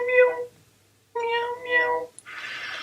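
A person imitating a cat meowing, several drawn-out nasal meows in separate bursts, close and fairly loud, followed by a short breathy hiss.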